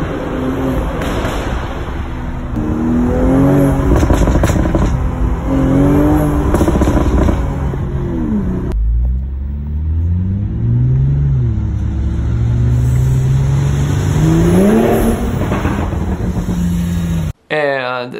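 Stock Toyota Supra A90 in sport mode, engine droning loud and close with rising and falling revs as it shifts down, a steady exhaust note carrying throughout, with a brief dropout near the end.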